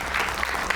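A studio audience bursts into a short, dense patter of clapping, steady and moderately loud for under a second.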